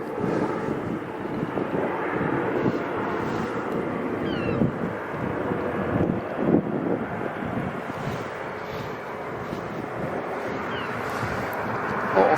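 A US Coast Guard HC-130J turboprop taking off and climbing steeply at Aberdeen Airport, heard as a steady, broad engine roar that holds for the whole stretch with wind buffeting the microphone.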